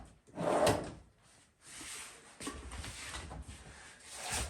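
Lower kitchen cabinet drawer slid open and shut, giving a few soft wooden rubbing and knocking sounds over faint room noise, quiet and close, with no voices.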